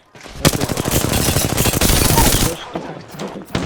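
Rapid automatic gunfire in the Apex Legends battle royale, a dense burst of close, loud shots for about two seconds, followed by a few scattered single shots.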